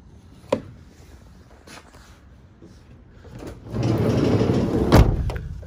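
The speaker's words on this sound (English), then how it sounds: "Sliding door opens and closes fine." A sliding side door on a 2012 Vauxhall Vivaro 2.0 CDTI Sportive short-wheelbase van rolls open with a sharp clack, then runs back and slams shut, loud and close with no talking.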